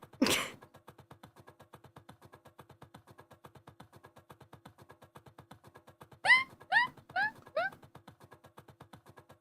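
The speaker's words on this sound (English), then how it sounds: "That's my dog. He sounds like a chew toy at the moment." A dog gives a short burst of high squeaky yelps, like a chew toy, after a quiet stretch of steady soft panting.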